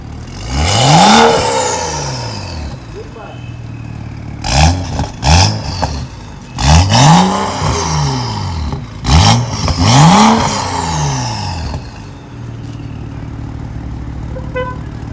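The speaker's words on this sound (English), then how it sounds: "I'm going to rev the engine a little bit." 2013 BMW 335i engine revved repeatedly while parked, heard from the exhaust at the rear. Several sharp rising blips climb and fall back to a low idle, loud and close.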